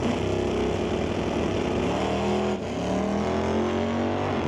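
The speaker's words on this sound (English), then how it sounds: "A little bit of wheel spin there." Drag race car at a night ET Series bracket race, its engine roaring loud and steady at the launch with a brief dip midway as the tires spin, then pulling hard again.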